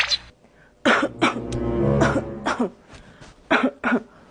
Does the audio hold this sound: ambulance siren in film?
no